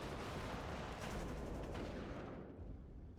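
Cluster high-explosive artillery shells landing in the strategy game Warno make a dense, continuous rumble of overlapping blasts that roars steadily throughout and fades slightly at the end.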